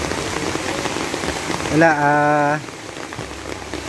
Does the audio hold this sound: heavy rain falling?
yes